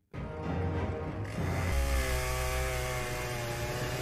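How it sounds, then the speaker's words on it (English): A chainsaw in a horror film scene starts up with a sharp burst, then drones and revs loudly and steadily, its pitch rising slightly as the engine speeds up, with no talking. "Gotta have a chainsaw moment."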